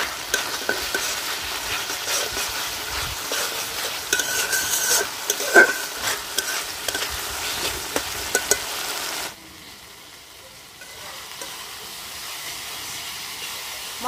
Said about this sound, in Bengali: মশলা ভালোভাবে কষাই নিচ্ছি